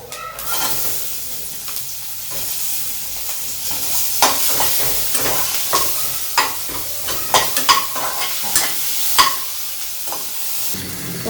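Chopped onion and cardamom seeds sizzle steadily in a hot pan, a continuous bright frying hiss broken by frequent sharp crackles and stirring scrapes, close and loud with no talk.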